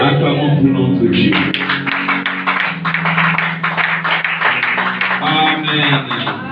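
A church congregation claps together in a dense, sustained burst of applause for God during a Sunday service, with voices mixed in beneath the rhythmic clapping.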